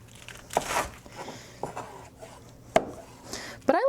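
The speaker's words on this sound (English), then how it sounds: "And then I'm gonna cut this kind of in thirds and then chop it this way in, you know, relatively decent sized chunks." Cabbage being cut into chunks with a knife on a cutting board for kimchi, a handful of crisp, separate chops with short pauses between them, close and clear.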